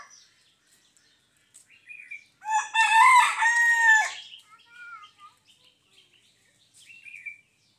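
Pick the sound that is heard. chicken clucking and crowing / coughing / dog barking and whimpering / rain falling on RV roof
chicken clucking and crowing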